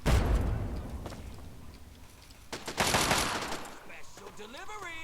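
Gunfire in the video game Fallout 3, several loud close shots and short bursts of fire with a heavy opening blast, followed by fainter gameplay sounds and a rising whine near the end.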